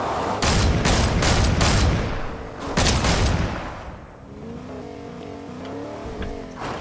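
Car engine in the video game Fortnite, a loud droning motor behind bursts of rapid gunfire early on, then a steadier revving tone with rising pitch toward the end.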